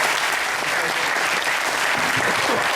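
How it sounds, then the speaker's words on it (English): Steady, dense applause from a crowd at a SXSW Q&A with The Damned, loud and continuous throughout with no break. "a round of applause for Brian James for putting the Damned together"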